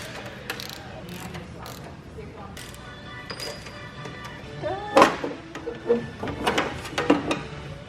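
Hand tools tighten hardware on a Jeep Wrangler shock mount, giving a series of close metallic ratcheting clicks and clanks that grow busier toward the end, with a quiet murmur of background noise.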